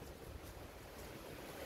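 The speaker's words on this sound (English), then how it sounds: "That water raging off this rock, off the dam." Water rages over a dam and off the rocks near Union and Chester, South Carolina, making a steady, faint broadband roar mixed with wind buffeting the microphone, with no voices.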